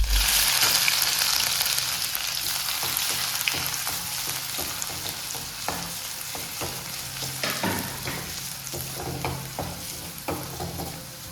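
Ginger garlic paste sizzling and frying in a pan, a dense continuous crackle with repeated stirring scrapes, close and loud, no talking.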